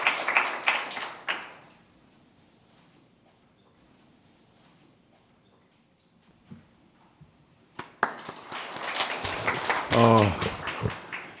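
An audience at a national assembly suicide-prevention policy seminar claps in a short burst, then the room falls quiet before a louder round of applause returns mixed with voices and shuffling.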